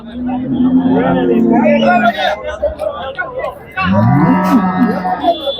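Heavy HF cows at a busy cattle market moo loudly and close, two long drawn-out calls separated by a pause, over a background of crowd chatter and talking.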